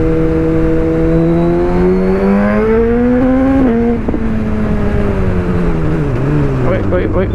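An inline-four motorcycle engine revs high and smooth while being ridden through traffic, its pitch climbing steadily, dipping with quick throttle blips and rising again, loud and close under steady wind rush.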